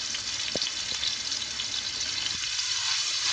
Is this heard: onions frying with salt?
yes